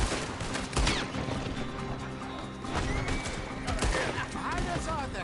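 Gunfire in Red Dead Redemption 2 during a moonshine-run shootout, scattered shots cracking over galloping horses, whinnies and constant game noise, with voices shouting throughout.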